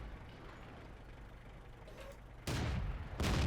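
Tank guns fire in the video game World of Tanks: two heavy, loud blasts land about a second apart, each with a broad booming crack, over a low engine-like rumble.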